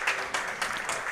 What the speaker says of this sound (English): both crowds applauding for the player